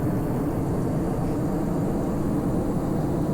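A steady roar of engines and rumbling wheels from an SSTO spaceplane rolling down a runway in Kerbal Space Program, loud, continuous and unbroken, with no talking.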